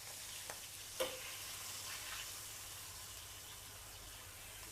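Pieces of fermented fish (pla som) fry in hot oil, giving a steady soft sizzle and hiss with a couple of faint clinks, heard fairly quietly and without talk.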